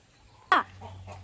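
A single short, sharp cluck from a chicken inside a coop rises over a low steady hum, followed by faint softer sounds.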